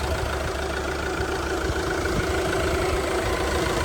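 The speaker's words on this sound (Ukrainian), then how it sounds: "Мотор працює чітко, ніяких запотівань нічого немає" A diesel engine of a 2014 Fiat Freemont AWD automatic idles steadily nearby with an even, continuous rumble and a faint rhythmic knock, and no one speaks.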